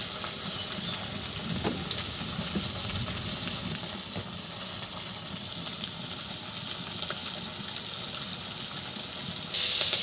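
Pieces of rohu fish fry in hot oil, a steady close crackling sizzle with scattered pops and faint utensil clinks, continuous for the whole stretch with no talking.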